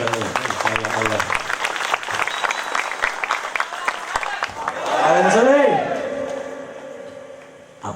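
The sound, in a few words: applause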